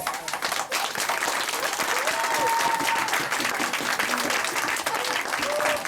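Audience at an Ugadi stage program applauds the director, dense sustained clapping from a large crowd that fills the hall, with a voice speaking over it.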